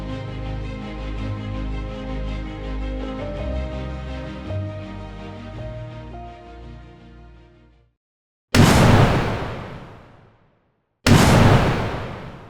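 Cartoon explosion sound effect for an animation: after a sustained low rumbling tone fades, two separate loud, sharp bursts hit and decay quickly, with silence between them and no talk.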